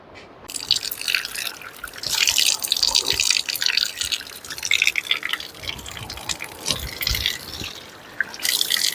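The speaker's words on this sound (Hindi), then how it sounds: "चट्टानों से पानी का रिसाव होता है" Water seeps and drips from the rock walls of the ancient Koteshwar Mahadev cave, a steady close wash of trickling and splashing with scattered heavier drops and no voices.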